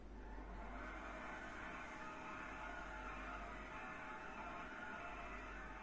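A Progen sports car in the video game GTA V accelerates with a faint, steady engine drone that holds at an even level throughout.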